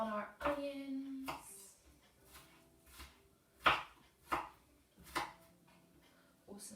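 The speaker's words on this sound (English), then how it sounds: "making sure we're getting a beautiful cut on our onions" A knife chops onions on a board in a home kitchen: a handful of sharp, irregular knocks spaced across the clip, close and fairly loud, with a brief voice heard near the start.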